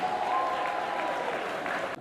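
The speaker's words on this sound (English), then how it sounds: "Please, a round of applause." Applause from an audience welcoming a speaker at a formal official gathering, a steady dense patter of clapping that cuts off abruptly near the end.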